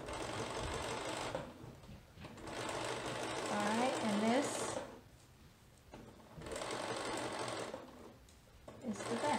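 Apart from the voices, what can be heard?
sewing machine stitching soft fabric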